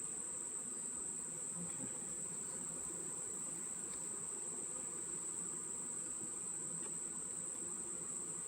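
A steady drone of buzzing honeybees being smoked in a hive, continuous and even, with a high constant whine above it and no talking.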